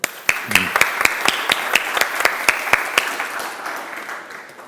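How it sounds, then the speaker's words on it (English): A conference audience applauds, with sharp, distinct claps close together in an uneven rhythm that start strongly, then gradually thin and fade, and some voices faintly underneath. "let's give him a big applause,"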